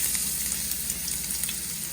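Chopped garlic and ginger fry in hot oil for Nepali chicken chow mein, giving a steady, close, continuous sizzle with crackling pops throughout and no talk.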